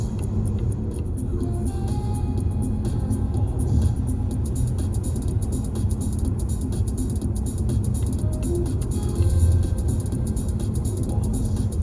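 Steady low road rumble of a car driving along a highway through Austria, heard from inside the cabin, continuous and even throughout with a slight swell near the end.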